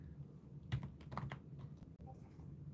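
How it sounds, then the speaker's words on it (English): Computer keyboard typing during a live sports podcast, a burst of several quick clustered key taps over a low steady background hum, close and moderately loud. "Why am I typing?"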